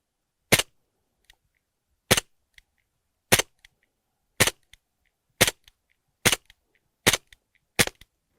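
Eight sharp BB gun shots from a Glock-style and 1911 BB pistol, single cracks spaced about a second apart, each followed by a faint tick of the pellet striking, loud and close with no talk.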